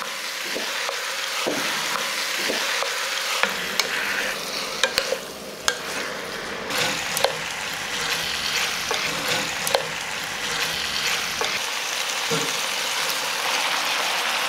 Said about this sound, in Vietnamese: Cho hết chỗ gà đã ướp vào, xào trên lửa trung bình